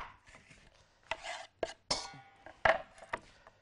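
Garlic cloves being minced with a knife on a board, a series of irregular sharp chops and scrapes, close and clear against a quiet background.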